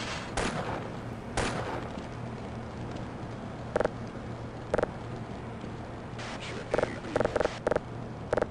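Gunfire in Half-Life: a couple of heavy booming shots early on, then sharp, clipped bursts of rapid shots that repeat in quick clusters over a steady low game hum, loud and close.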